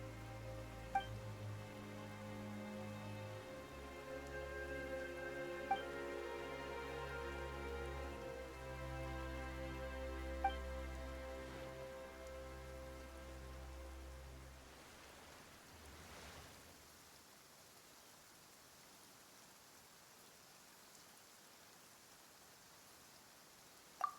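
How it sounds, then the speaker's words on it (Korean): Steady rain patters softly in the Genshin Impact game world, a continuous hiss of drops on surfaces under a faint musical bed that fades out midway, leaving quiet rain. "갑자기 비가 오네."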